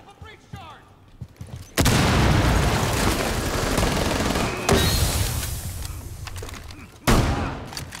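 A breach charge detonates in the Rainbow Six Siege video game, a loud sudden blast followed by sustained rumbling and gunfire-like bursts, with another sharp boom near the end and faint voices early on.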